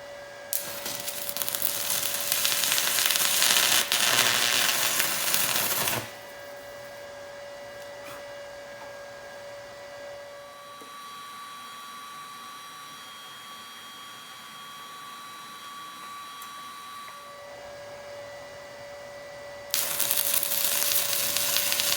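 A cheap $100 welder in use, a steady loud crackling hiss that runs for about six seconds, gives way to a quieter hum with a faint tone, then returns as a brief crackling burst at the end.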